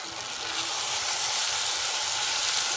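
Onions fry in oil in a pan for a sea bream tomato sauce, a loud, close, steady sizzle that rises slightly and holds with no talking.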